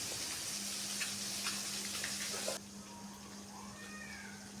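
Prawn patoori with taro stolons, wrapped in banana leaf, fries in a frying pan with a soft, steady sizzle that drops suddenly partway through, leaving a quieter hiss and a brief mewing sound.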